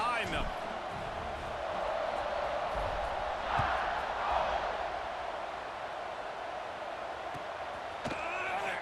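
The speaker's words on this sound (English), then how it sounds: "this crowd now ready to get behind them" Stadium crowd in EA Sports College Football 26 keeps up a steady, broad roar and cheer throughout, swelling slightly midway, with a commentator's voice talking over it.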